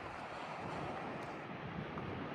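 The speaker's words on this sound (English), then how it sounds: "By golly, Miss Molly, is it windy and cold out here?" Constant roaring wind buffeting the microphone, loud and unbroken throughout, with no voices.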